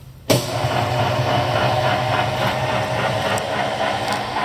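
An Oliver 3-inch drill grinder, Model 600, switches on with a sudden onset and settles into a steady, loud motor hum with its coolant pump running alongside, continuous and close with no talking.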